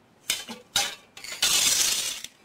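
Roughly 117 grams of whole cocoa beans tipped into a roasting pan, rattling and clinking in a few quick bursts before settling into a denser continuous clatter as they pour.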